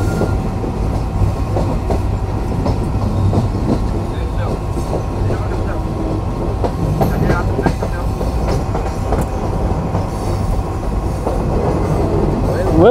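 The Rupsha Express, a Bangladeshi intercity train, runs on rails just after crossing Hardinge Bridge, with a steady low rumble and rhythmic wheel clatter that continues throughout, heard from inside a carriage with some faint background voices.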